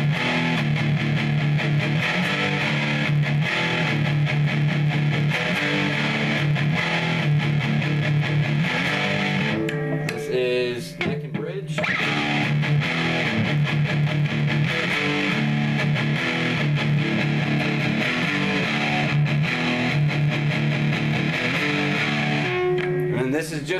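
Electric guitar played through an amp's ultimate gain super distortion channel, loud and saturated with chugging riffs and sustained chords, a brief drop near the middle, then heavy playing resumes.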